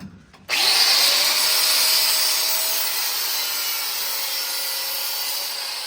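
Angle grinder with a thin blade cutting the nipple off a throttle cable on a military truck, a loud sustained high whine that starts abruptly and holds steady with slight fading, no talk over it.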